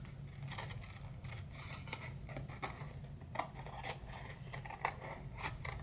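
Scissors cut through paper for a pillow box, quiet close-up snips and rustling strokes repeating unevenly over a faint steady background hum.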